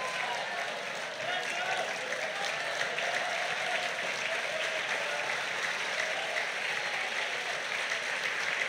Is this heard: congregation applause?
yes